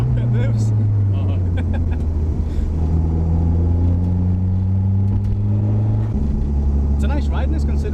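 A rally spec Toyota Celica GT-Four on the move, heard from inside as a loud, continuous engine drone with rising revs and a clear gear change partway through, while people talk over it.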